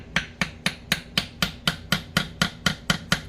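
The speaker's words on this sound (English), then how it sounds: "First, I'm going to give it a light tap" A hammer taps a Farmall tractor diesel injection pump about a dozen times in a steady, evenly spaced rhythm, each strike a close, sharp metallic knock, with no talk.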